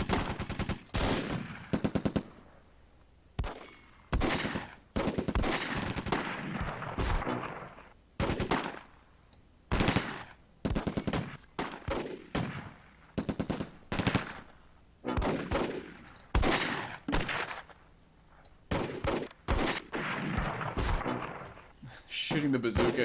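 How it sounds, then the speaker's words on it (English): Bazooka and gunfire in the World War II tactics game Close Combat, fired at a lone infantryman among hedgerows, as a dense run of repeated loud bursts and bangs with no spoken voice. "Shooting the bazooka at that lone infantryman."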